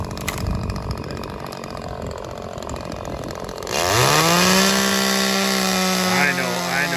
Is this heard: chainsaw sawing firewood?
yes